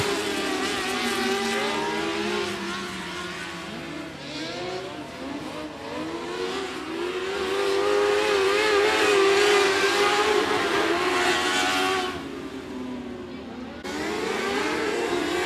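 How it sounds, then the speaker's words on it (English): Race car engines at full throttle on the 105 Speedway oval, a loud sustained roar with shifting pitch as cars pass, a brief dip near the end before the roar returns, mixed with crowd and track ambience. "He's got the engine at full thrust, looking for takeoff down the tarmac."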